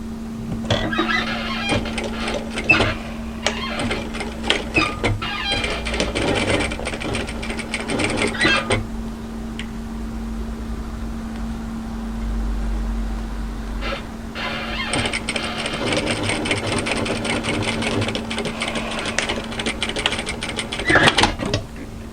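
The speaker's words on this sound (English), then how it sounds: "sew a second line of stitching parallel to the first" A sewing machine runs in bursts while stitching a second parallel line on a dress, with a steady whirring hum and fast mechanical clatter, briefly pausing in the middle before resuming, close and alone without talk.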